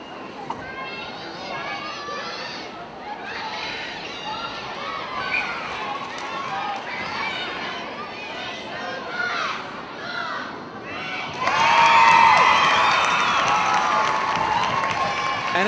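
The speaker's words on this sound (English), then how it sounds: "Some boos coming from the crowd. A very vocal crowd" A vocal crowd at a netball grand final raises a sustained roar of jeers and shouting that swells louder near the end, with a commentator's voice running over it.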